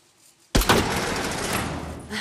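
A single loud gunshot fired at a lock bolt in Days Gone bursts suddenly out of near silence and rings off with a lingering tail.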